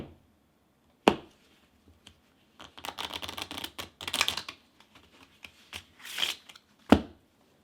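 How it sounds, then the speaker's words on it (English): Riffle shuffling of a deck of cards heard close and clear: a sharp tap, a long fluttering riffle, another brief riffle, then a crisp knock as the deck is squared. "Can you shuffle the deck? Can I shuffle the deck? Watch this."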